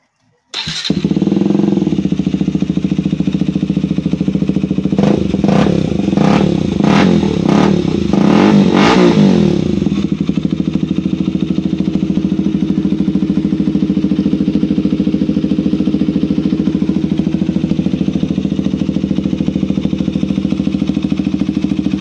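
KTM Duke 200 motorcycle with a stainless mid-link exhaust, close and loud: steady rumbling idle broken by a series of sharp throttle blips and revs midway, then settling back to idle.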